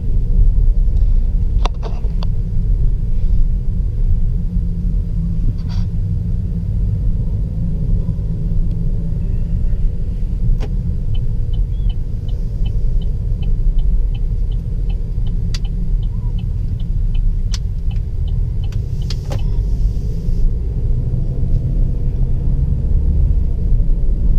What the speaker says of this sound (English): So let's go ahead and drive her back to the hotel.